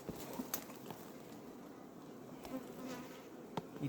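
Steady buzzing of a honey bee swarm close by, a dense continuous hum with a few brief louder passes, no talking.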